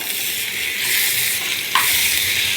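Steady sizzling of green chili paste frying with potatoes in a pan, with scraping stirs throughout and a sharper clink of a spoon near the end.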